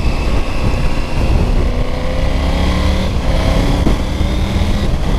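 A Triumph Tiger 900 Rally motorcycle accelerates away, with a continuous close engine drone and rising tones as it pulls through the revs, loud and steady throughout.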